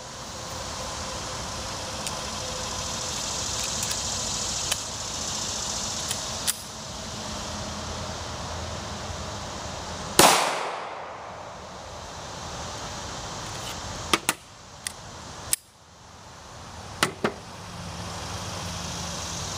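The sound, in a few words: Kimber Ultra Carry 2 pistol firing .45 ACP at water heater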